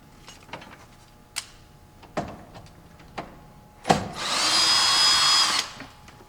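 Screw gun driving a screw into a Murphy bed wall unit: a few sharp clicks and knocks, then a brief whirring burst of the driver running for about two seconds before stopping, close and clear.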